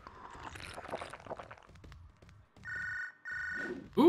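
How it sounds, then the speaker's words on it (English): A cell phone rings twice in short electronic bursts inside the Wrestling Empire video game, following softer game sounds and a thump, with no talking. "I hear a cell phone, but I don't see where it is."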